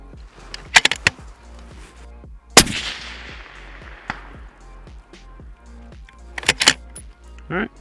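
Rifle shots ring out across a range at a 400 target, with a few sharp cracks and echoing reports close to the microphone. Quieter handling clicks and background noise fall between the shots.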